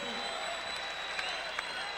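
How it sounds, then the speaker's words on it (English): A crowd cheering and applauding a Ball State play at a 1994 NCAA men's volleyball semifinal against Penn State, a steady arena roar with scattered claps and a commentator talking over it. "here the crowd get behind Ball State when they make a good play"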